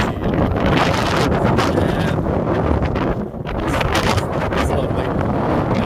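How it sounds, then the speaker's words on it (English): Wind blowing hard across an open prairie during a blizzard, a loud, continuous roaring buffet against the microphone that dips only briefly. "Wind's not blowing too bad."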